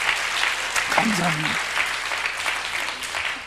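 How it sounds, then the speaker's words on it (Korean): Congregation applauding in a church, a steady dense wash of clapping throughout with a voice speaking briefly over it. "모든 영광 우리 주님께 박수로 영광 돌립시다"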